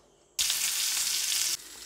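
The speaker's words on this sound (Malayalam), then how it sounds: "ഇനി നമുക്ക് ഈ ചിക്കൻ ഓരോന്നായിട്ട് ഈ പാനിലിട്ട് വറുത്തെടുക്കാം" Chicken pieces for shawarma drop into hot oil in a pan, setting off a sudden loud, close, steady sizzle that holds for about a second before easing to a quieter hiss, with no voices.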